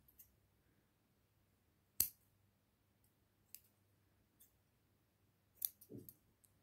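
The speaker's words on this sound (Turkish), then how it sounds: "İpimi buradan kestim." Scissors snip through yarn for a crochet scarf, a few sharp isolated clicks spaced seconds apart in an otherwise quiet room.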